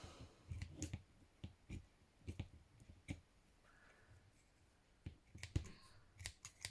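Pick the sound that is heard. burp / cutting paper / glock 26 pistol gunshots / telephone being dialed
cutting paper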